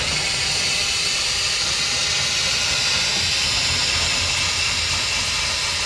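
Cordless drill set on torque cranking a BAL stabilizer jack down, a loud, steady, hissing motor whine that runs continuously and alone without pause.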